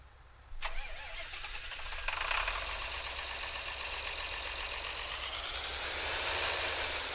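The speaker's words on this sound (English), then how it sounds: "let's just move this tractor out of the way" A tractor engine in Farming Simulator 22 cranks and fires up, then settles into a steady mid-pitched running drone that rises slightly as it pulls away, close and continuous with no talking.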